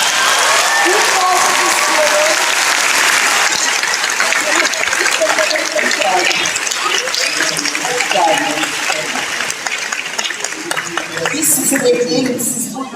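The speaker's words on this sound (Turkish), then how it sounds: "Çok, çok kocaman alkışlarla." Loud, sustained applause from a large crowd at an awards night fills the whole stretch, with cheers and voices mixed in, easing slightly toward the end.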